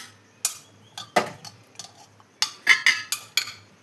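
Cooked chickpeas with tomato and onion are scooped out of a pan into a serving vessel, giving a series of sharp metal spoon clinks and scrapes in an irregular rhythm, close and fairly loud.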